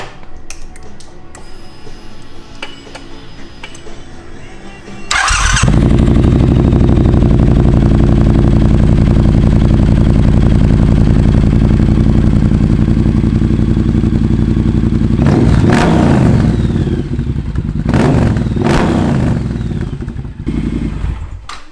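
A Triumph Bonneville with a Vance and Hines exhaust starts up after a few seconds of quiet handling noise, then idles loud and close with a deep, steady rumble and is blipped into two sharp revs near the end.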